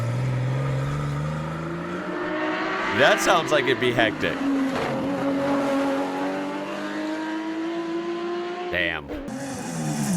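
A Porsche rally car engine revs and climbs through gears, loud and close, with sharp bursts and tire noise, while someone talks over it.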